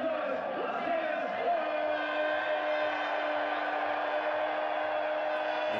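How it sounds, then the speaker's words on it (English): A soccer stadium crowd at a Las Vegas Lights FC match roars and chants in a steady, continuous wash of voices, with a sustained horn-like tone running underneath. "The crowd trying to inject some life into the 11 that they see on the field right now."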